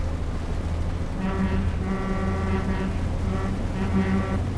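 Truck air horn in the game Euro Truck Simulator 2 on a Mercedes Actros, several loud sustained blasts in succession over a steady engine drone, with no talking.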